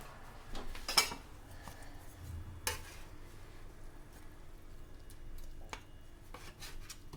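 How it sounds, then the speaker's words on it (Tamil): Oven-baked chicken turned over in a metal tray, a few clinks and scrapes of utensil on tray amid quiet rustling, no talk. "இனி நான் இதை எடுத்து திருப்பி போட்டு வைக்கணும்"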